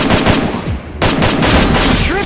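Rapid, loud automatic gunfire bursts in the Free Fire battle-royale game, with a brief gap before the shooting resumes, and game sound effects and a voice faintly underneath.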